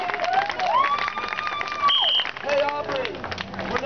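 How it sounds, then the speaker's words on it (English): A crowd in a public square claps and cheers, the applause mixed with loud whoops and shouting voices rising and falling over a few seconds. "Give them a round of applause."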